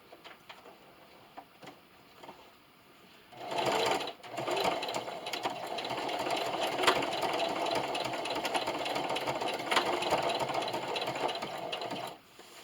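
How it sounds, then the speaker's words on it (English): A sewing machine backstitches a fabric hot pad for a cast iron skillet handle. After a few faint clicks it starts up and runs as a steady, close mechanical whirr for about eight seconds, then stops. "I'll be going over this about 3 or 4 times with my backstitch"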